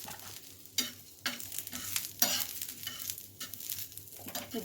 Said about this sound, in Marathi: आता एक चम्मच जिरा टाकते मस्त जिरा पण आपल्याला व्यवस्थित भाजून घ्यायचा आहे